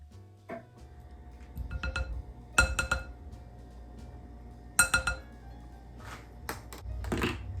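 Tomato paste is mashed into gluten-free pizza cracker dough in a bowl, with scattered sharp clinks and knocks of a utensil against glass in a quiet room.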